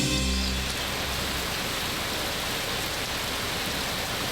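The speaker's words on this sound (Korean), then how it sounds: "한여름의 소나기." A brief midsummer rain shower falls steadily in the wild, a dense, even hiss of rain with no voices or other sounds over it.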